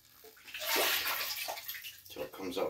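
Water splashes and sloshes while the tank of a Kirby carpet shampoo system is rinsed out, a close, fairly quiet rushing pour with irregular surges over about three seconds.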